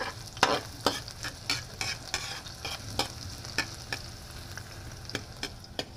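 Garlic frying in a pan for adobo while a metal ladle stirs and knocks against it, sharp irregular scraping clanks over a soft continuous sizzle, close and fairly quiet.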